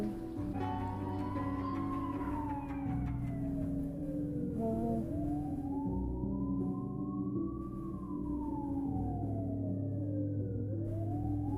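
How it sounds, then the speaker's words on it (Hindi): A wailing ambulance siren rising and falling in long sweeps, loud and continuous, over a steady low engine rumble. "एम्बुलेंस।"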